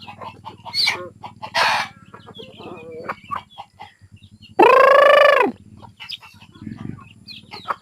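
Chickens cluck and squawk nearby in short bursts, and one loud drawn-out crow rings out midway.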